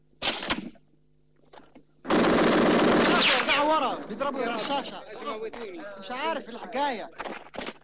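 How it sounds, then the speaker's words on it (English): Machine gun fire rips through a war film scene set in the Sinai, a dense sustained loud burst following a brief earlier shot, then shouting voices carry on over fading echoes. "Josie, fire in front of them."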